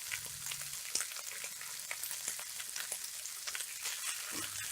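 Drumstick leaves stir-frying in a pan with salt, a dense continuous sizzle with scraping stirs of a spatula, close and loud with no talking.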